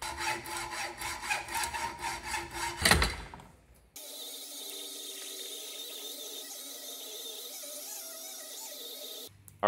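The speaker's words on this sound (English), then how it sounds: "after cutting off the sprue and wire brushing off of the black from it" A saw cuts the sprue off a cast aluminium claw, rasping in quick back-and-forth strokes for about three seconds, then giving way to a steadier, quieter grinding noise.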